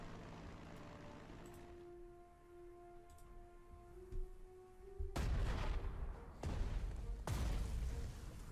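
Bombing explosions in the Panzer Strategy war game, heavy booming blasts and gunfire-like bursts, several loud hits in the second half after a quieter stretch of tonal game background.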